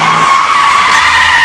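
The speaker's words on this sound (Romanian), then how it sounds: "De-abia o ating și mașina se oprește scârțind!" A car's tires screech loudly and steadily as it brakes hard to a stop, one continuous close squeal with no talking over it.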